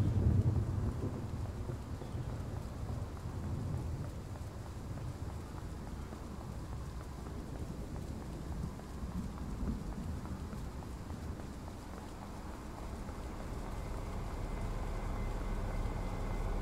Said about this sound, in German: Es ist ein richtiger Gewittersturm